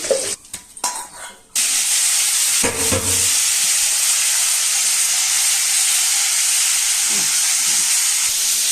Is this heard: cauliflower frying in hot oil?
yes